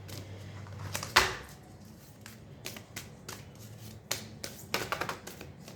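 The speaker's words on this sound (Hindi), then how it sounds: "इनको भी मैं शामिल करके फिर शफल करूँगी" Tarot cards being shuffled by hand, a series of crisp riffling bursts and soft slaps close up, irregular and fairly quiet, with no talking.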